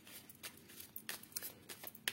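Petit Lenormand cards shuffled by hand for a weekend reading, with soft, repeated riffling bursts and paper flicks at close range in a quiet room.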